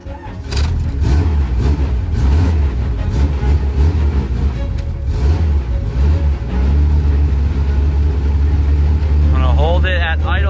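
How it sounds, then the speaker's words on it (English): A turbocharged Honda Civic engine idling, a loud, steady low rumble held throughout, with someone talking over it near the end. "I'm gonna hold it at idle here for a little bit, let it get warm"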